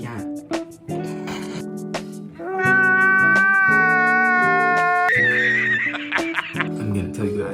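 A cat meows repeatedly, with short calls giving way to long, drawn-out wailing meows, loud and close throughout.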